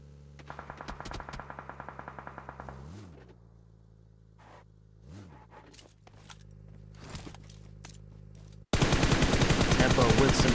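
Gunshots in PUBG Mobile, sharp repeated cracks over a steady vehicle drone, ending in a loud dense burst of fire.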